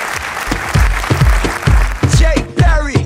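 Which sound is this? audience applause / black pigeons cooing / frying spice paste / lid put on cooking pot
audience applause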